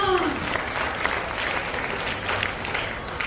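Loud applause from an audience at a staged drama, a steady dense clatter of clapping that carries on throughout, with a voice audible at the very start.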